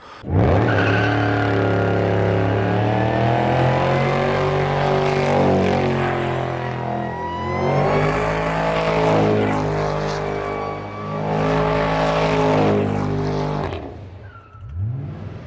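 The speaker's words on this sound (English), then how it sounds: "the main things I've done is the engine starts and runs, and that's great" A loud truck engine runs and revs repeatedly, rising and falling in pitch up close, then cuts down sharply near the end.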